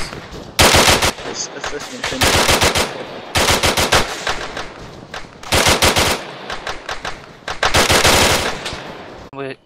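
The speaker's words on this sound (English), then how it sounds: "We're getting shot." Rapid machine-gun bursts from a co-op shooter video game, loud and close, firing in repeated volleys with short pauses between them, while a voice speaks briefly underneath.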